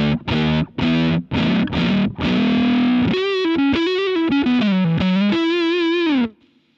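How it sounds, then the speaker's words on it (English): Electric guitar played through a Fuzz Face fuzz pedal: first several choppy distorted chord stabs, then a sustained fuzzy single-note melodic line with vibrato, loud and close, ending in a quick fade, no talking. "Sounds identical to me, and it sounds like a great fuzz face"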